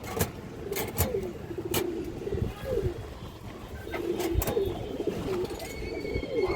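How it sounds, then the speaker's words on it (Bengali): Pigeons, including red three-bar old birds kept for flying, coo in repeated soft throaty phrases at close range, with faint engine hum in the background. "দেখেন একবারে টকটকা তিন পট্টি লাল গিয়ারের কবুতর"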